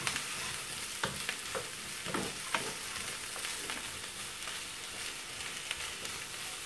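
Sliced green and red bell peppers sizzle quietly in a pan, with a soft steady frying hiss and a few scraping stirs of a utensil, heard alone without voices.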